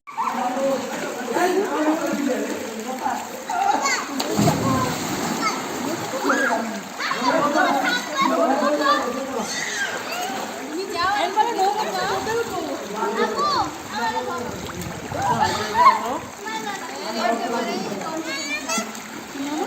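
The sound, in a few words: child splashing and dipping in water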